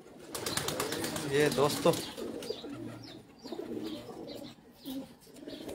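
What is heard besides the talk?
Pigeons cooing on a rooftop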